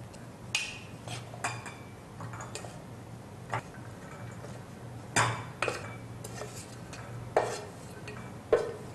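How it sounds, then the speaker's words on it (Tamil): A paneer mixture scooped into a bowl, scattered clinks and taps of a spoon against metal and crockery with quiet gaps between them, no talking. "மிக்ஸ் பண்ணிட்டு இது ஒரு போலுக்கு ட்ரான்ஸ்ஃபர்"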